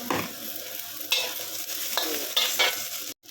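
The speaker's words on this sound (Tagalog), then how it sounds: "At igisa na po natin ang ating mga bawang, sibuyas at ginger." Garlic, onion, ginger and eggplant sauté in a pan, a close sizzle broken by several sharp stirring scrapes and clatters, ending abruptly, without speech.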